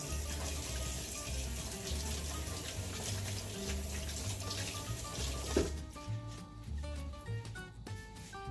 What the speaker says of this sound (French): Attendez, je lave mes gants.